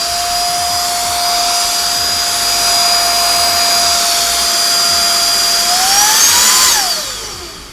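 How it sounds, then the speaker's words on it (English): A RAYCOP GO portable UV vacuum cleaner runs with a steady, loud motor whine that holds an even pitch, then rises sharply near the end before the motor winds down and fades. "use the product itself to vacuum like your laptop while using the UV light as well"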